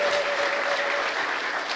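A church congregation applauds together during a worship service, a dense, even clapping that holds steady for a couple of seconds with no voices over it.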